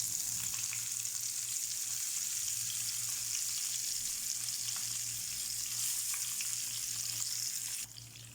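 Kappa kalmas, masala-coated tapioca pieces, sizzle steadily in hot oil, a dense continuous frying hiss with a low hum underneath and no talking, easing slightly at the very end.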